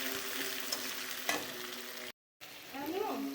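Chopped onions frying in oil with fenugreek seeds, a quiet steady sizzle with a few stirring scrapes. The sound cuts out briefly partway through and then resumes.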